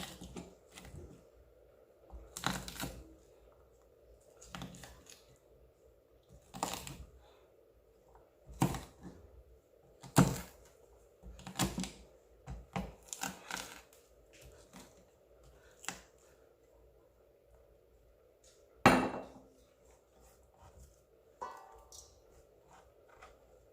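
Fresh garlic crushed under a utensil on a clean surface for Jamaican oxtail, heard as scattered sharp thuds and cracks at irregular intervals, close and fairly quiet over a faint steady hum, with no talking.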